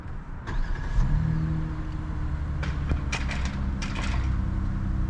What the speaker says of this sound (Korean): 시동을 한번 걸어 볼 건데,